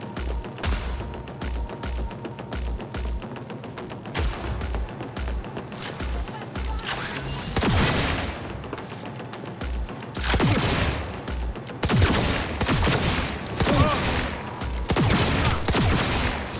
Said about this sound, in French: je me prends des tirs